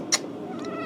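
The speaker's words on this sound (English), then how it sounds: "An infant Compesian power cat." A cat gives one short, sharp meow close by, followed by a fainter second call, against a quiet background in an amateur sci-fi fan film.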